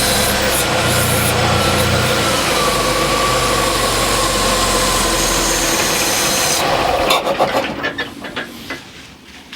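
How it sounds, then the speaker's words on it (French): A Ford Mustang engine idles loudly and roughly up close with a dense mechanical rumble while the idle is adjusted by hand; the engine then stalls, leaving sputtering fading bursts and a few clunks. "je règle le ralenti au doigt"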